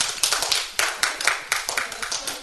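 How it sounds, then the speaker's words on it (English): An audience claps for a 14-year-old student at a morning parallel session, giving a short round of fairly close, steady hand claps with crisp, evenly spaced strikes and no talking over them. "Please clap for her."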